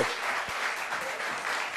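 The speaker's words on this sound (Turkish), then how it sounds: "alkışlıyoruz sevgili Ali Özel" A studio audience applauds a guest on a Turkish television talk show, a dense steady wash of clapping that holds at an even level throughout.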